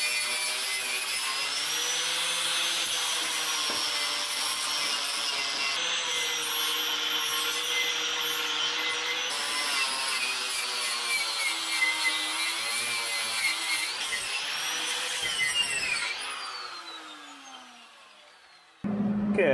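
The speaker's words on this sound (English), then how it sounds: "We're going to get the wire wheel out, clean this all up" A wire wheel scrubs clean a metal part, making a continuous, moderately loud abrasive whir with shifting tones and brief changes in pressure, then tapers off at the end.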